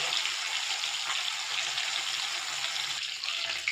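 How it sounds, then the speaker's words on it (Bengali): Fish frying in a pan, making a loud, close, steady sizzle with a watery crackle that dips briefly near the end before carrying on, with no voices over it. "একটু কড়া করে মাছটা লাল লাল করে ভাজলে সবাই খাবে"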